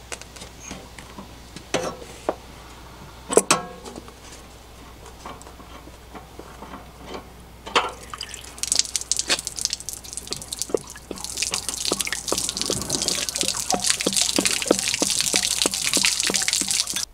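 Water draining from the hot water tank drain plug of a travel trailer during de-winterizing, first scattered drips and splashes, then a steadier louder gush of flowing water that builds through the second half.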